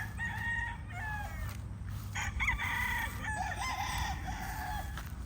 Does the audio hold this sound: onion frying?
no